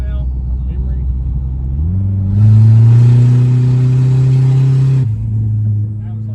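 A turbocharged car engine climbs under boost, its rising drone swelling into a loud, sustained roar and then easing back. The engine is heard close up from inside the car, with no one talking.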